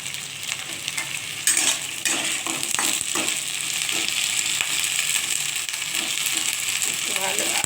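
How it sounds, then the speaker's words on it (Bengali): Okra fries in a pan with a dried red chilli and bay leaf, a dense steady sizzle close by with scattered stirring knocks and scrapes, and a voice speaking now and then. "এর সঙ্গে আমি খুব মোটামুটি করে ভাজবো, খুব বেশি ভাজবো না।"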